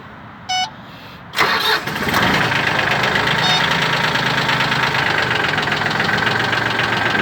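Mitsubishi MT16 Japanese mini tractor with a soil tiller attachment cranks and catches, its small engine settling into a loud, steady, close running clatter that continues to the end.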